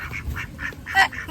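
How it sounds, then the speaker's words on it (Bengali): Ducks by the water give a short run of several nasal quacks in quick succession, close and moderately loud, the last ones a little stronger. "আর এখানে জানো তো অনেকগুলো হাঁস এসেছিল।"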